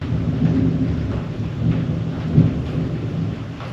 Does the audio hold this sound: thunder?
yes